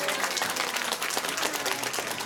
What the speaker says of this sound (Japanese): 皆さん、ミスターポテトヘッドに大きな拍手。